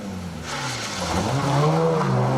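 A Group N Mitsubishi Lancer rally car drives past at a rally, its engine roaring loud and steady with rising revs.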